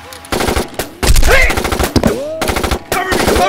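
Bursts of machine-gun fire in an action short film, loud rapid volleys in several runs separated by brief gaps, with shouted voices mixed in.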